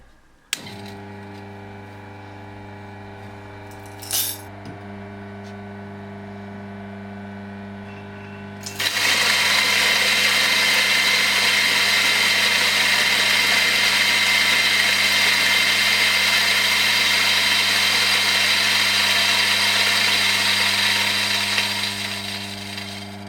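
A Mazzer Philos coffee grinder hums at idle, then 19.5 grams of beans go in and it bursts into loud, steady grinding that holds for about fourteen seconds before tapering off.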